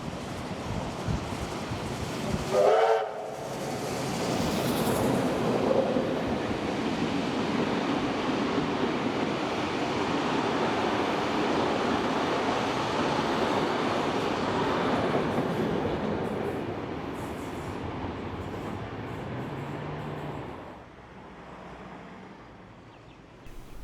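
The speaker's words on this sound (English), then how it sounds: "Transport Heritage New South Wales' 3642 is seen with 4490 at the rear of its train heading to Wollongong" Heritage steam locomotive 3642, with 4490 at the rear, hauls its train toward Wollongong on the Steam to Serve Rail and Sail Tour in New South Wales. A whistle blast sounds early, then a long rolling rumble passes and fades away near the end.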